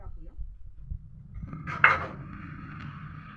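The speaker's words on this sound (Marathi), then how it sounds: "आता आपण कढई टाकूया." A metal kadhai is set down on a kitchen stove with a single clear clank amid soft handling noises, close and fairly quiet.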